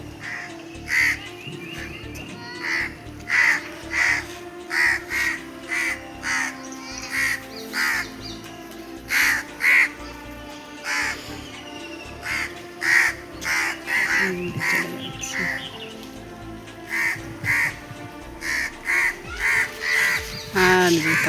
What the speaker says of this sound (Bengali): কাকগুলো কাকা করেই যাচ্ছে।